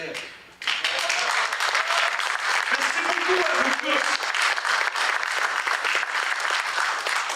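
Audience applause at a Hydro-Génial gathering breaks out after a brief quiet moment and continues loud and steady to the end, while a voice speaks over it.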